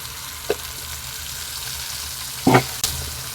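Ground tomatoes fry in a pan for chicken gravy, with a low steady sizzle broken by a few short stirring scrapes, the loudest near the end.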